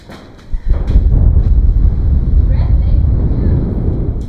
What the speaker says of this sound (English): Guys, I can't tell you how windy it is up here.